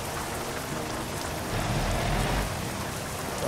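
Steady rain falls in the driving game American Truck Simulator, a dense, even hiss that holds throughout with a slightly heavier stretch midway, with no voices.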